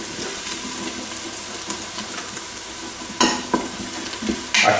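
Onions browning and starting to stick in an Instant Pot, a continuous close sizzle with scattered spoon scrapes and a couple of louder stirring clunks near the end, no voices.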